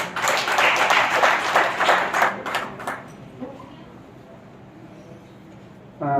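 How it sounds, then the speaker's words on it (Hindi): Lecture audience breaks into brief clapping, a dense burst lasting about three seconds that quickly trails off into quiet room tone, with a short sound cutting in at the very end. "आपकी जोरदार ताली।"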